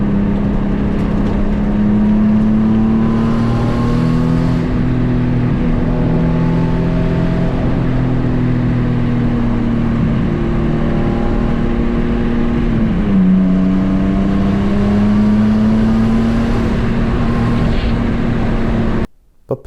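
A Nissan VQ V6 fitted with a rear-mounted turbo drones loudly and steadily near the listener. Its pitch rises slowly as the engine revs, dips briefly, then climbs again before cutting off abruptly at the end.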